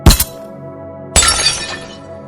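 A ceramic Ming vase shattering as a bullet hits it, a sharp loud crash with scattering shards, then a second burst of breaking and tinkling pieces that rings out and fades.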